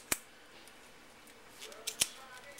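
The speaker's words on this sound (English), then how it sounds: "So this soft membrane I'm going to cut straight through here." Kitchen scissors snip through the soft membrane of a lobster tail, giving a few sharp, close clicks separated by quiet pauses.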